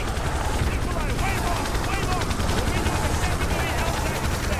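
Continuous dense automatic gunfire in Call of Duty: Modern Warfare 2, a loud unbroken rattle of overlapping shots with low rumble underneath during a market firefight.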